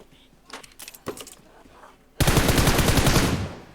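Loud sustained automatic gunfire in the battle royale game PUBG, a dense rapid burst of shots starting abruptly partway through after a few scattered clicks and thuds.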